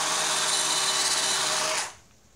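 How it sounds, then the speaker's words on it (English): A power drill whines loudly as it bores through a metal bracket for a Razor E300 scooter, then cuts off abruptly after about two seconds. "we're just going to drill a hole through here and add a little bolt"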